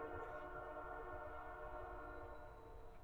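A long, steady freight train horn sounds from a distance at a campsite, sustained and droning, with no talking.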